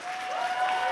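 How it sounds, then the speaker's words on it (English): Audience applause at a San Diego Comic-Con 2016 panel on 20 Years of Tomb Raider, a dense, steady crowd clapping heard from within the hall, loud and continuous for the whole second. "You ready to clap now?"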